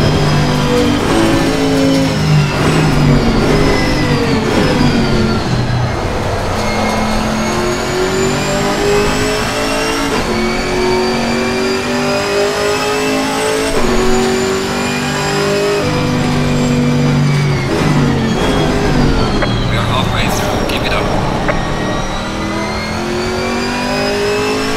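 Chevrolet Camaro ZL1 race car in Assetto Corsa Competizione on a GP circuit, its loud engine revving and roaring continuously through repeated gear changes, with other race cars audible around it and no talking.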